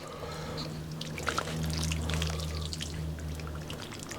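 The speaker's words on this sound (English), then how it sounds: "I'll pour the water on now" Boiling water poured steadily from a kettle held at an angle, a continuous close trickle and splash with a low hum beneath, lasting a few seconds.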